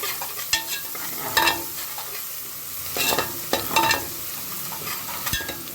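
Garlic sizzles gently in a pot for Saudi kabsa while a spoon stirs and scrapes it in a few separated strokes, close and fairly quiet over a constant hiss.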